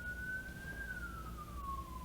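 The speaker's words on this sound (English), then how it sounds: "those are sirens" A single siren wails steadily, slowly rising then falling in pitch, heard faintly from a distance over a low rumbling background.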